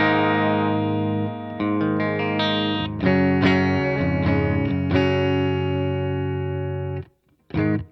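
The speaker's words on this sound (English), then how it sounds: "So now this is the super reverb style cab." Sustained electric guitar chords and ringing single notes through a Walrus Audio ACS1 pedal set to a Super Reverb style cab, loud and close with rich harmonics, stopping briefly near the end before a final short strum.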